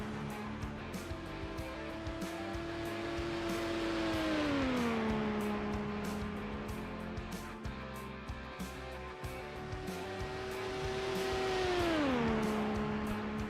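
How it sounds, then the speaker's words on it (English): IndyCar race cars lap Phoenix Raceway, their engines droning with a steady high whine that rises and falls in pitch twice as the cars pass around the oval, moderately loud with no voices. "might be a good time to turn on the sound for the old Indy cars"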